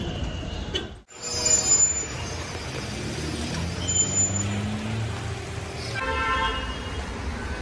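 Busy street traffic near the Taj Hotel in Mumbai's Colaba area: a continuous roar of engines with several short, high horn toots scattered through it and no talking.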